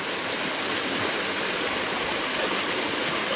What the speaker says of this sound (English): deafening roar of this water.